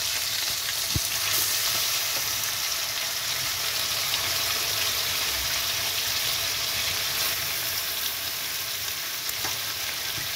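Chicken pieces frying in a little oil in a kadai, a dense, steady sizzle and crackle that holds evenly for about ten seconds, close and moderately loud, with one brief knock near the start and no voices.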